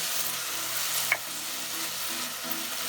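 Ginger garlic paste with tomatoes fries in a pan, giving a steady bright sizzle with soft scraping stirs and one small clink of the spoon, with no voices.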